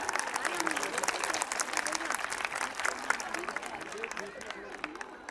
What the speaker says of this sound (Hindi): इन बच्चों के लिए जोरदार तालियां।